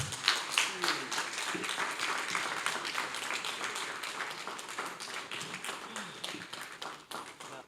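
Audience applause at a legal seminar, steady broadband clapping lasting several seconds at moderate loudness, fading slightly toward the end, with no voices over it.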